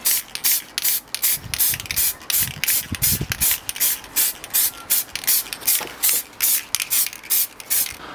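Short hissing bursts of spray paint in gunmetal silver grey are applied to a textured piece, repeated in a quick, fairly regular rhythm with brief gaps, close and loud, with no talk.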